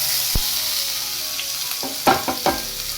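Chopped onion hitting hot oil with mustard seeds, a soft background sizzle broken by a sharp clack and then several quick bursts of scraping and crackle near the end, close and unaccompanied.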